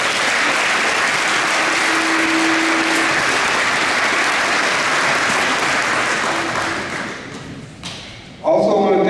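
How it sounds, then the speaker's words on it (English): Audience applause fills a senior recognition night at a high school, a steady dense wash of clapping from a large crowd that fades out near the end, followed by a brief thump. "So give them a round of applause."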